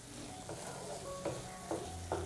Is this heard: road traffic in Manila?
no